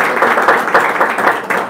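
An audience at a training workshop bursts into loud, close applause, with dense, quick clapping that swells and dips evenly throughout.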